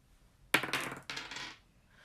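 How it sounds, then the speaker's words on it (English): Dice rolled for a tarot-style reading, clattering in two quick bursts of tumbling clicks on a hard surface, close and alone. "Let's roll the dice."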